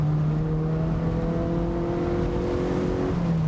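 A Mazda NC MX-5 engine with a BBR Super 200 kit drones steadily at high revs around 5,000 RPM, a sustained loud mechanical hum with rising tones, no talking.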